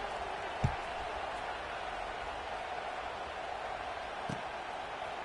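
Steady broadband stadium crowd murmur from a College Football 26 video game, holding at a constant moderate level with a couple of brief thumps, no distinct cheering swells.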